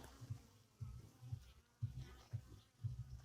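Honeybees fly around a wooden 12-frame Dadant hive on a sunny January midday, making a faint, low buzzing hum that swells and fades in repeated pulses.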